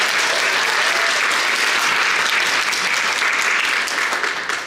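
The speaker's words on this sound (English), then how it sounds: "Let's give her a round of applause." A book festival audience applauds an author in a sustained, dense wash of clapping from a large crowd that holds steady for several seconds and tapers slightly at the end.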